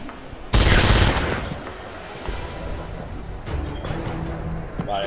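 Burst of automatic gunfire in the Avatar video game, starting with a loud dense volley and then trailing into scattered shots and combat noise, with little pause.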